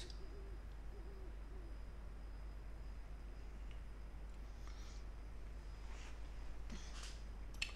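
An owl hoots softly a few times in The Sims 4 life-simulation game, faint low calls over a steady quiet hum.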